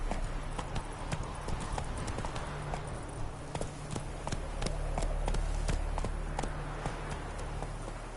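Horse galloping in The Witcher 3: Wild Hunt, a brisk steady clip-clop of hooves over a low rumbling backdrop, close and continuous throughout.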